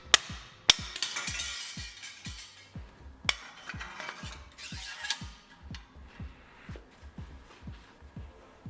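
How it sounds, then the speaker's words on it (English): Repeated hammer blows knock a bicycle headset bearing cup loose, sharp metallic strikes at an irregular, roughly half-second rhythm, close and fairly quiet, with a few louder hits among lighter taps. "Then I take a hammer and strike with appropriate force to remove the bearing cup."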